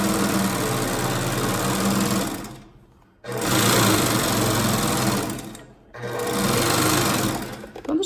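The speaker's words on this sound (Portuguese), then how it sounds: "Vou passar o overlock primeiro" A serger runs at full speed finishing the skirt of a child's dress, a loud, dense mechanical whir that stops twice for brief pauses before starting again.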